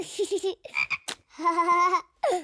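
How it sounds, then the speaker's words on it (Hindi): Cartoon frogs croak in short repeated bursts, a run of bouncy throaty calls with brief pauses, close and fairly loud, with no talking over them. "मेंढक ढूंढना, ये हुई ना बिंग वाली बात"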